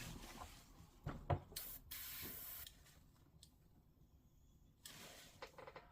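Gaahleri Mobius-SP siphon-feed airbrush spraying in a few short, soft hissing bursts, separated by quiet gaps and light handling clicks.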